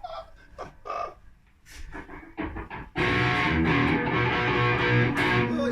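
A Schecter Hellraiser guitar converted from seven strings to a wide-neck six-string is played through an amp: a few scattered plucked notes and short bursts, then a loud, sustained, thick distorted chord that rings on steadily.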